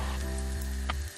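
A breaded yam burger patty sizzles steadily in hot oil, a continuous close crackle and hiss with a faint clink near the end and no voices.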